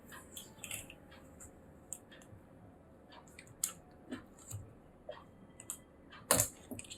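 Tape peeled off a screen connector during a phone repair, faint soft crackles and ticks in a quiet room with one sharper louder snap near the end.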